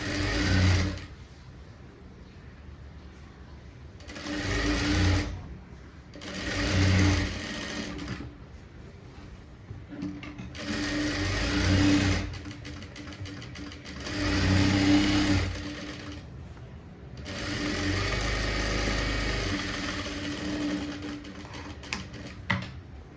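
Sewing machine stitching blouse sleeves, running in repeated bursts of steady mechanical whirring and needle clatter that start and stop several times, close and fairly loud.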